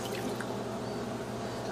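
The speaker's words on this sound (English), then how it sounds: "I pour in the water." Water poured from a container into a bowl of boxed cake mix at home, a soft steady trickle and splash running close by without pause.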